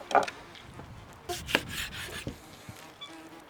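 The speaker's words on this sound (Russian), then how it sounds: "Так, начинаем хвостики резать." A knife cuts through beef oxtails on a wooden board, producing faint, intermittent scraping and soft thuds of the blade against wood, with a few brief louder knocks spread across the stretch.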